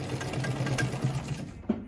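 A Kohler WZ automatic sewing machine runs in a steady, close mechanical whir with a rapid stitching rhythm for under two seconds, ending in one sharp clunk.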